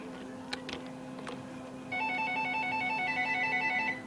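A telephone rings steadily with a repeating electronic tone over a constant hum, after a few faint clicks, during a Minecraft play session.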